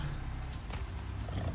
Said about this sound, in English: I knew I heard a bear.